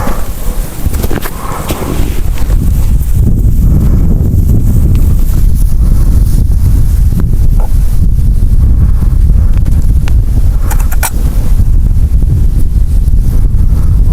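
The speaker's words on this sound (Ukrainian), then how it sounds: "Вітер дне і хорошо поддуває." Strong wind buffets the microphone outdoors with a constant loud roar, gusting throughout with occasional thumps.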